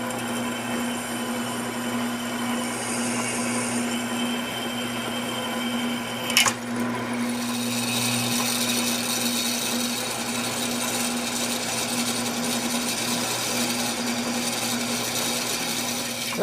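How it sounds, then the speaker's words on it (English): Drill press boring screw holes through a metal ladder bracket in a home garage, a steady continuous whir with a sharp tap near the middle and the drone rising slightly afterward. "we're at the drill press. Gonna drill a couple of holes for the screws."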